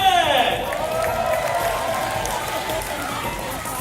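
A stadium audience at the Fear Factor Live show at Universal Studios Orlando cheers and claps for contestant Justin, a sustained roar of many voices that gradually eases, with a loud voice over the crowd.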